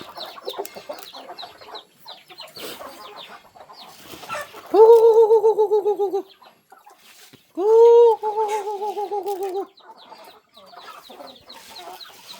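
Village chickens cluck and chatter close by, with two loud drawn-out fowl calls, each followed by pulsing, repeated cackles, and quieter clucking in between.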